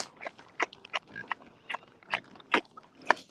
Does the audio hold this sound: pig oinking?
yes